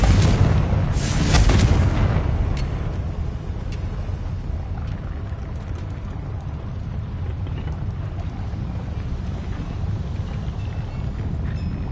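A Confringo explosion spell cast in the Hogwarts Legacy video game erupts in a loud broadband blast, then fades into a sustained rumbling roar of debris and wind-like noise with no voices.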